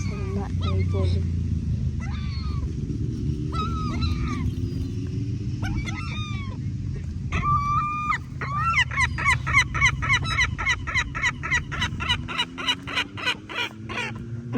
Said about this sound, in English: This seagull isn't as loud as that other seagull species. But it's still loud.